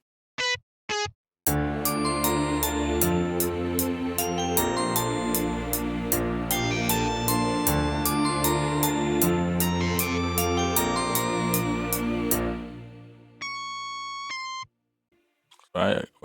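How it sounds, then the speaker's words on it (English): A layered emotional beat plays with a guitar part added over steady drums, bass and melodic layers, loud and dense for about eleven seconds before dropping to a sparse plucked pattern, with brief bursts of sound at the very start and end. "So we're going to add in a guitar"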